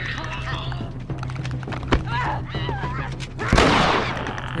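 Gunfire in The Last of Us during a tense fight: several sharp shots and a heavier blast ring out over a steady background hum and scattered game noises, close and fairly loud.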